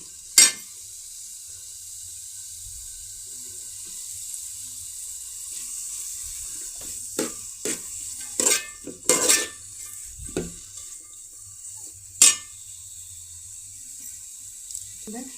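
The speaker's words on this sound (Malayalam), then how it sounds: "സവാള ഇങ്ങനെ എണ്ണയിൽ കിടന്ന് വഴറ്റുമ്പോഴാണ് കാര്യം ഓർമ്മ വരുന്നത്" Onions sautéing in oil while being stirred for a chicken curry: a soft, steady sizzle runs throughout, broken by scattered sharp clinks and scrapes of the stirring utensil against the pan, a few louder.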